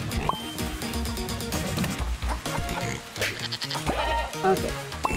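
Goats bleat repeatedly in the cooperative video game Moving Out 2, short nasal cries scattered across a busy mix of game sounds and thumps.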